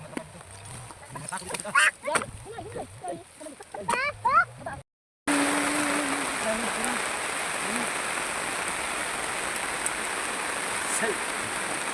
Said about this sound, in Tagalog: So it's raining, guys.